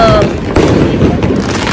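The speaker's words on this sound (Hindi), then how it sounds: "fireworks in Dubai" Diwali fireworks go off in Dubai's Bur Dubai area with a few sharp, loud pops and booms over a noisy outdoor crowd. A whistling rocket rises at the start.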